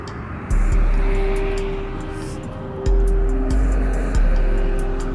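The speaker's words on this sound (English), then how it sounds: "How many of those bomber type planes do we need coming in?" Large military bomber-type planes descend toward Hill Air Force Base in winter, a steady low engine drone with several louder swells as aircraft pass overhead one after another.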